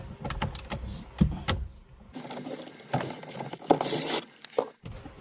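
Close, clicky mechanical rattling comes from a tool loosening the 10mm center nut on the steering wheel of a 2022+ Honda Civic. The sound comes in short bursts separated by brief pauses.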